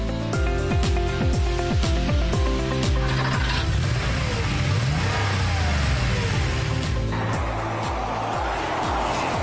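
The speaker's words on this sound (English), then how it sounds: "Drivers, start your engines!" Race car engines fire up and rev hard together at a racetrack, a loud, continuous mid-pitched roar with rising and falling throttle sweeps, heard close with no talking.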